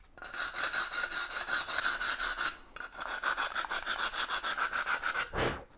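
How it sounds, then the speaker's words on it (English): A tiling file rasps back and forth across the cut edge of a ceramic tile in quick, rhythmic strokes, close and fairly loud, with a brief pause midway and a final thud at the end. "to finish the cuts off, a tiling file will help you create a nice smooth finish"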